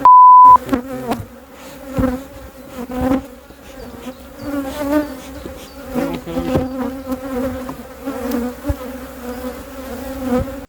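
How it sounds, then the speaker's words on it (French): Honey bees swarm inside beehive supers during a spring hive inspection, making a loud, close, continuous buzzing drone that swells and fades as individual bees pass near, with a brief beep at the start. "il y a beaucoup d'abeilles dans les hausses"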